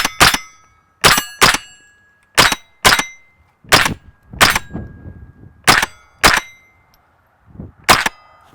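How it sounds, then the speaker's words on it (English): Ten sharp .22 rimfire shots from a Smith & Wesson M&P 15-22 rifle, fired at a steady, unhurried pace with short ringing tails between them, close and loud with no talking. "So we just ran the first 25 rounds ever through this gun"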